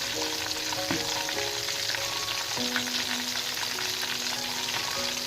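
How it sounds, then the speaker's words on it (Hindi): Marinated broasted chicken frying in hot oil, a loud, dense, continuous close-up sizzle and bubbling that holds steady throughout with no voices. "अब हम इसको फ्राई कर रहे हैं"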